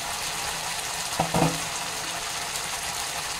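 Rohu fish pieces in a yogurt pepper sauce cook in a covered pan with a low, faint frying hiss and a soft clatter just over one second in.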